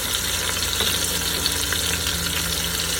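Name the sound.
short ribs browning in Instant Pot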